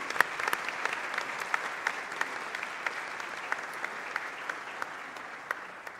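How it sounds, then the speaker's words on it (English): A Mass congregation applauds a newly ordained priest at his first Mass, a dense, steady clapping from many hands filling the church, moderately distant and sustained throughout. "Let's give him a round of applause."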